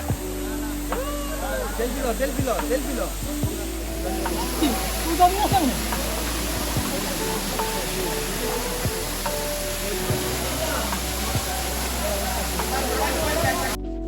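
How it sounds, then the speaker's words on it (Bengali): Suptadhara waterfall at Sitakunda makes a steady, broad rushing hiss of falling water that runs throughout, with voices talking over it. "আমরা সবাই অবশেষে পৌঁছে গেছি আমাদের সেই ঝর্ণায়"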